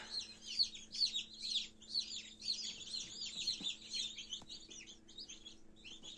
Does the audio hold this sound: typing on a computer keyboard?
no